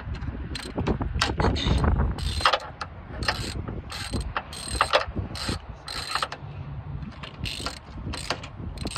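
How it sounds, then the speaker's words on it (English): A mechanical ratcheting clatter, repeated in quick bursts as something is cranked back and forth, with creaks and clicks in between. "as you guys can hear, it is now caught because it's allowing me to crank this one back and forth"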